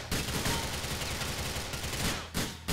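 Dense, sustained gunfire in Grand Theft Auto IV during a warehouse ambush: loud, rapid overlapping shots that pause briefly near the end before another burst.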